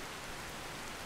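Rain in Skyrim, heard as a dense, even hiss of downpour filling the short stretch without a break.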